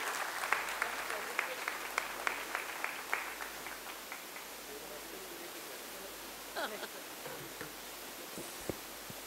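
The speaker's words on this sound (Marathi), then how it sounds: "आपण जोरदार टाळ्या वाजवून स्वागत करूया आदरणीय कुलगुरू मॅडमांचं" Applause from an audience at a university foundation day ceremony welcoming the vice-chancellor, steady and fairly distant across the hall, with a few sharper claps early on and faint murmuring and movement later.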